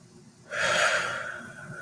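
A single deep inhalation during a guided relaxation breathing exercise, a soft broadband airy rush starting suddenly and sustained for over a second, close and fairly quiet with no talking.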